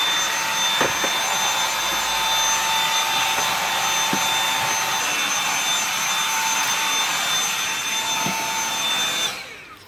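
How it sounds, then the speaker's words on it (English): A Hoover vacuum cleaner runs inside a motorhome, a loud steady whine with a constant high tone and a few small knocks, winding down abruptly at the very end. "I see you've got a Hoover in your hand."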